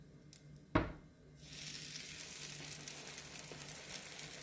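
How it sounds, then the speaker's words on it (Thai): Carrot pancake batter poured into a hot pan, a single sharp clatter followed by a steady hiss of frying that rises and holds at moderate loudness. "ลงไปทอดนะคะ"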